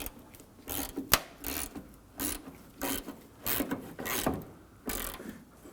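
Ratchet loosening a hood hinge bolt on a 2015-2020 Ford F-150, heard as bursts of rapid mechanical clicking separated by short pauses, close up with no talking.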